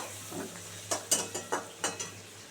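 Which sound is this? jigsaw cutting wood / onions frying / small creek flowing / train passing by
onions frying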